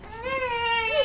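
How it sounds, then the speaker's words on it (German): A baby screams and cries in one sustained, high, wavering wail that rises in intensity near the end, loud and close, with no talking. "die Babys können nicht trinken vor lauter Schreien"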